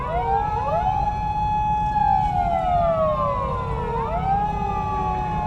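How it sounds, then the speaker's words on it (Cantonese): Several police car sirens wail loudly and overlap at Daikoku Parking Area in Japan, their sweeping tones rising and falling over a low rumble of engines. "因為咧而家應該個啲警車咧咁兜圈咧"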